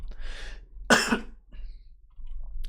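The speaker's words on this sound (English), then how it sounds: "Also, I still have a cough, so I apologize in advance." A single sharp, close cough, with a softer breathy throat sound just before it, in an otherwise quiet room.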